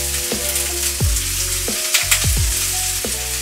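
Broccoli and onions fry in melted butter in a pan, with a steady loud sizzle broken by several short scraping stirs at roughly even intervals.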